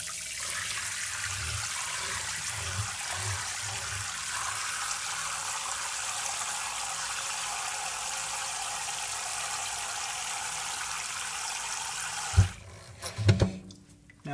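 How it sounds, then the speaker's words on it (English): Tap water pours steadily into a cast iron skillet for a long stretch, a constant close hiss and splash, before it stops and the pan clanks and knocks at the end. "So the first step, fill this with some water here."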